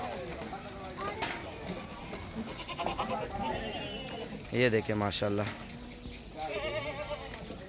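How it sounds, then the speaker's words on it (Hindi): Goats at a livestock market bleat repeatedly, several loud nearby cries rising over the crowd, while someone speaks throughout amid shuffling and background chatter. "और ये बकरे अभी आ रहे हैं अंदर माशाल्लाह इकट्ठे कर रहे हैं"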